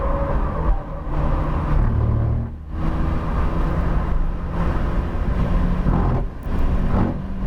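A 2020 Honda Civic Si at full throttle on a race track, its engine droning loud and close with steady rising and falling tone, briefly dipping between pulls as gears change.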